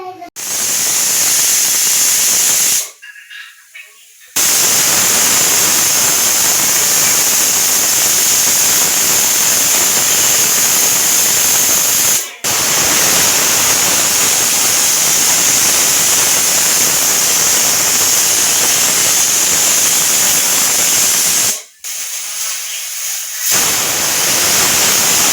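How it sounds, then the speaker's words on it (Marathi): A pressure cooker cooking vegetables for pav bhaji lets off steam, a loud, long, high hissing whistle that runs almost continuously for about twenty-five seconds, broken only by a few brief pauses. "3 ते 4 शिट्ट्या देऊ म्हणजे भाजी व्यवस्थित शिजेल"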